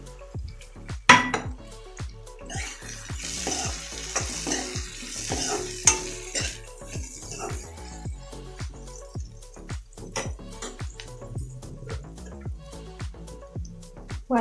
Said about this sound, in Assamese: ভাজি থোৱা সয়াবিনখিনি দি দিছোঁ ইয়াতে।